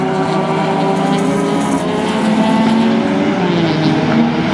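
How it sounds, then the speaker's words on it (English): Closed-wheel race car engines roar steadily and loudly as cars pass on the Mission Raceway track, a continuous high-pitched drone with shifting engine tones. "the IP3 leader is making their way past some of the slower cars, and the BMW driven by Raymond Torres neatly"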